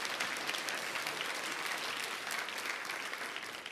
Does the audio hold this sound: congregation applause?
yes